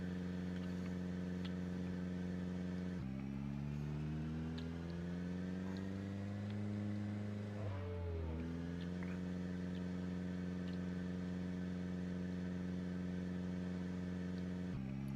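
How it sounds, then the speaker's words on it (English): Car engine in the video game Project Zomboid straining for traction, a steady droning hum whose pitch dips and wavers midway before settling back, running continuously and fairly loud with no talk. "Sorry for all the engine noise,"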